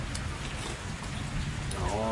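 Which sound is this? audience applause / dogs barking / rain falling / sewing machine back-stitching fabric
rain falling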